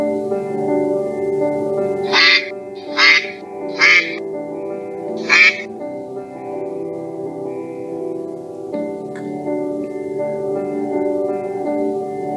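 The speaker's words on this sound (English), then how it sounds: "I think I can see some ducks over there." Four loud quacks from a duck, spaced a second or so apart, over a steady low hum; the rest is background drone.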